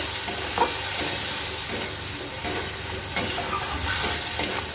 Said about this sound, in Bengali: এবার পেঁয়াজের পেস্টটাকে মানে ভালো করে একটুখানি ভেজে নিতে হবে